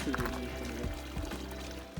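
Natural spring water pours steadily from a source along a Lycian Way hiking trail, a continuous close splashing trickle with faint voices in the background.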